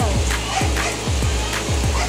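Several dogs bark in a quick, regular series of sharp yelps, fairly close, with steady background noise throughout, during a typhoon flood.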